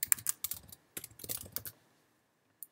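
Typing on a computer keyboard: a quick run of close, crisp key taps, a short break, a second burst of taps, then one final isolated click.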